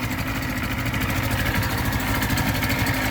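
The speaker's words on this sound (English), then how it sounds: "But just that idle, it goes about as fast as it did with that 4 horsepower motor." An outboard motor on a boat idles steadily, putting along with a close, continuous low drone and even throbbing rhythm, no voices.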